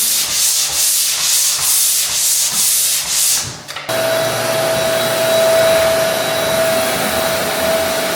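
Drywall taping compound on a stick bead and butt joint being sanded, rhythmic close rubbing strokes for several seconds, then a steady whining hum like a dust vacuum, loud and alone.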